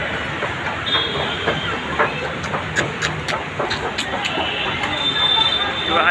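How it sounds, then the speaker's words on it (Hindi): A Delhi metro train rumbles steadily at a station, with rhythmic clicking of wheels over rail joints and faint voices in the background. "ये मेट्रो का लाइन है, मेट्रो स्टेशन है"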